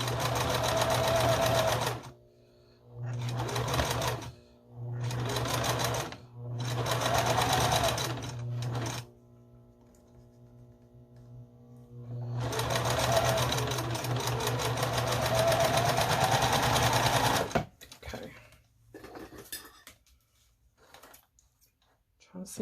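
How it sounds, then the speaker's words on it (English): A sewing machine stitches thick quilt seams at a slow pace for a string quilt, running in several bursts separated by short pauses, with a longer steady run toward the end, close and fairly loud. "And you have some thick seams on this one, so I sew a lot slower."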